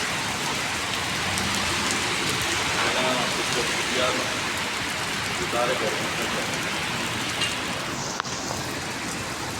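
Heavy rain pours down steadily in Saudi Arabia, a dense, loud, continuous hiss of drops drumming on surfaces with no letup across the whole stretch.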